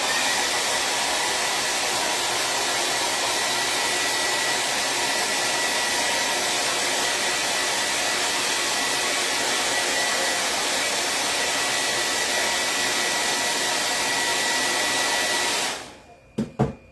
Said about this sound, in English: Dryer again.